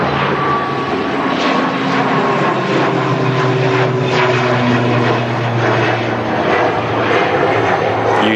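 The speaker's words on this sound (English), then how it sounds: "Logan Air ATR taking off." Loganair ATR turboprop airliner taking off at an airport, a loud sustained propeller and engine drone with a steady throbbing hum that stays dominant throughout, with no voices heard.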